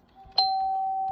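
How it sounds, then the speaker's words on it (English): An In Tune MP3 doorbell plays one of its default tones, a single bright chime that strikes sharply and then rings steadily, close and clear. "That's one of the default sounds that came with it"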